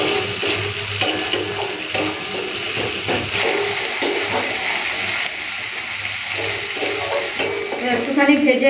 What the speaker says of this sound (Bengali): একটুখানি ভেজে নিই আদা রসুন লঙ্কাটা